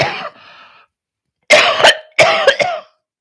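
A short cough, then two harsh, close coughing fits in quick succession, loud and alone with brief pauses between.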